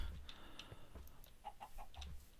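Minecraft chickens cluck in a few short, faint bursts from nearby, with a soft rumble underneath and no talking.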